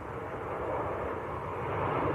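A Ryanair airliner on short final approach at Manchester Airport gives off a broad, steady jet engine roar that swells gradually as it nears, with no talking.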